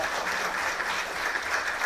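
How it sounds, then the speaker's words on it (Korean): Steady applause from a seated audience at a policy debate forum on student safety in Gwanak-gu, dense and even clapping that holds at a moderate level throughout without talk over it. "우리 관악경찰서가 더 열심히 일할 수 있도록 큰 박수 한번 또 보내주십시오"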